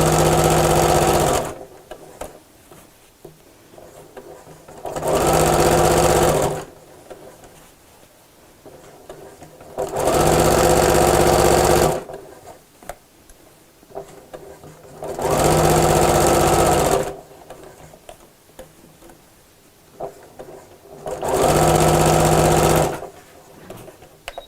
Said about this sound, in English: And then I'm going to sew all the way around the top, this time with a 1/2 inch seam allowance.